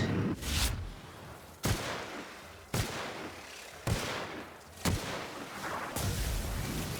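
Gunfire in The Outer Worlds: five sharp, loud shots at roughly one-second intervals, each with a rumbling tail, then a sustained blast near the end, no talking.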